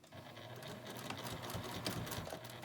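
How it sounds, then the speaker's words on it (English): A sewing machine stitches quilt binding, a steady close rapid mechanical chatter running continuously at low volume. "And just sew all the way down the next side."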